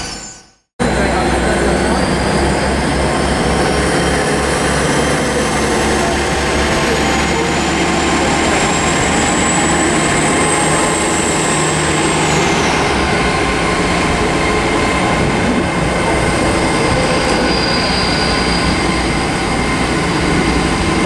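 Great Western Railway class 800 train departing Oxford toward the carriage sidings, a steady loud rumble and hum that runs throughout after a brief quiet start, with a whining tone rising and then falling away.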